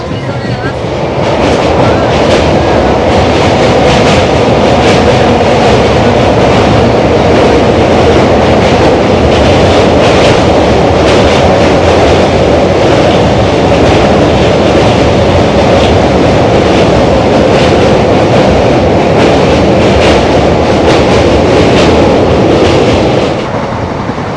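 A train runs loudly along the tracks in West Bengal, a continuous close rumble and rattle that holds steady for the whole stretch.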